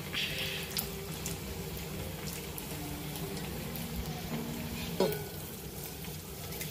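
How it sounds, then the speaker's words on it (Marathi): Bread pakoda deep-fries in oil until reddish brown, giving a continuous, even bubbling sizzle at close range, with a single soft knock partway through. "चांगले लालसर होईपर्यंत आपल्याला तळून घ्यायचे आहेत"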